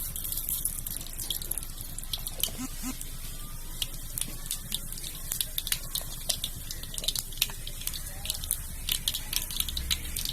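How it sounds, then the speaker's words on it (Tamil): Mustard seeds spluttering in hot sesame oil in a village cooking pan, a dense crackling patter of sharp pops running steadily throughout, close and fairly loud. "நல்லெண்ணெய், எண்ணெய் சூடாயிடுச்சு, கடுகு வந்து போட்டுக்கலாம்"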